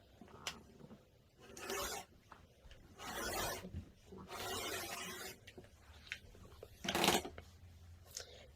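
Quilting fabric being cut into strips for a tablecloth, soft close scraping and rasping strokes of a blade through cloth in several separate passes, with light clicks between them and no talk.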